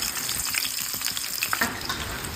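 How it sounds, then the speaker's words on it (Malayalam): Shallots sizzle in hot oil with popping mustard and fenugreek seeds for a mango pickle, a loud continuous frying crackle with occasional stirring and sharp spits, no voices. "കടുക് പൊട്ടി കഴിയുമ്പോൾ ചെറുള്ളി ഇടുക."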